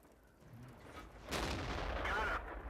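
A tank gun firing in World of Tanks, one heavy booming blast with a short rumbling tail, set against quiet game ambience.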